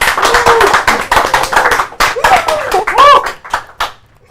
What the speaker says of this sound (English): Everyone in the studio, round of applause for Martin.